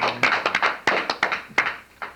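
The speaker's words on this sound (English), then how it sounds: "We all hear applause for the one and only" Sparse handclaps from a small school audience greeting a guest on a student-run show: about a dozen separate, crisp claps in an uneven rhythm, close and fairly quiet, with short gaps between them.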